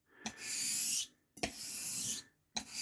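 A Puma 89 plane blade rasps back and forth on a very coarse Italian slate stone, three long gritty strokes with brief pauses between, close and fairly loud.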